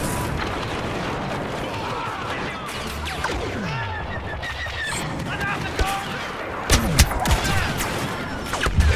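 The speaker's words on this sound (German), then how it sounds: "Oh, Granate." A grenade blast amid constant battle noise in Star Wars Battlefront on Sullust, Sorosuub Centroplex, with heavy gunfire and booming hits that grow louder toward the end while someone talks over the action.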